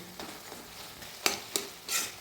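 Spoon scraping and stirring bitter gourd and potato chachchori in a wok (kadai), with a low background sizzle and three or four distinct scraping strokes near the end.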